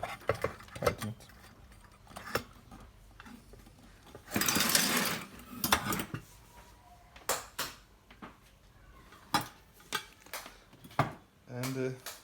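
Metallic clicks, ratcheting and small clatters while a connector is tightened during assembly of a light fixture, close and intermittent, separated by short pauses with a brief louder rustling burst.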